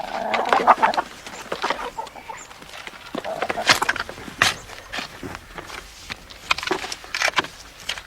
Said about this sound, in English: It's young Declan's job to feed the chickens.